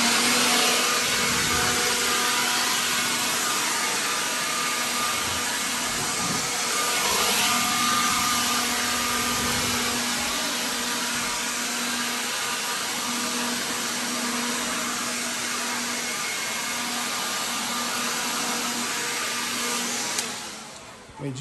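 A vacuum cleaner or blower runs steadily on a carpet, clearing dust out of the corners of a room with a loud, continuous whine that cuts off abruptly at the end.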